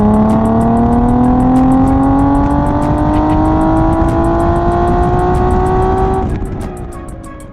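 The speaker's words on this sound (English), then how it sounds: "The Blue Ice G37 finally sounds and drives the way it should." An Infiniti G37 fitted with a Z1 exhaust and tune revs hard, its loud engine note climbing steadily for several seconds before the throttle lifts and the tone drops away near the end.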